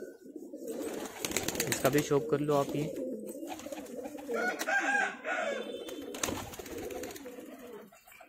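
Magra Khatang high-flyer pigeons coo softly in the background while people talk over them.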